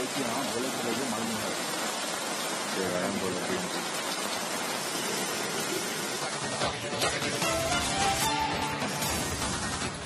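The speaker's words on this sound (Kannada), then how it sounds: "ಈಗ ಮತ್ತೆ ಇದೇ ರೀತಿ ಮಳೆ ಆರಂಭ ಆಗಿದೆ" Heavy rain falls across flooded Bengaluru, a close, steady patter and splash of drops on surfaces that continues without a break, with scattered louder drips toward the end.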